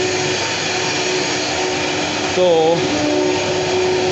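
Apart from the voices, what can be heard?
CNC machines running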